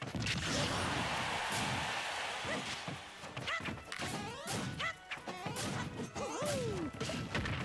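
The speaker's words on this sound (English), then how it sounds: "Mario got smashed." Super Smash Bros. tournament gameplay with Mario taking a heavy hit: loud smashing and whacking impacts, swooshes and crashes pile up in a busy, chaotic stretch of game sound, with a commentator's voice partly audible underneath.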